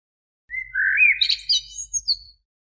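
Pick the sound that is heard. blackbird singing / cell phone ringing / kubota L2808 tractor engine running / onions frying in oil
blackbird singing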